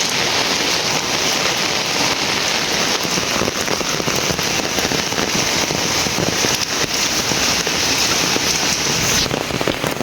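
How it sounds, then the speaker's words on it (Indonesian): Heavy rain falls in a dense, unbroken hiss of drops on surfaces, loud and close throughout, with no talking. "Hujan."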